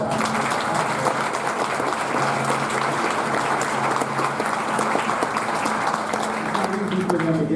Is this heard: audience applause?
yes